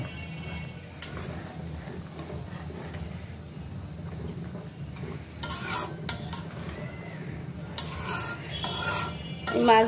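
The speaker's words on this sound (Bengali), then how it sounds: "দেখো ঝোলটা ফুটে উঠছে" A puti fish mustard curry gravy bubbles in a pan on the stove while a utensil scrapes and stirs it, with soft steady simmering and a few bursts of clinking strokes.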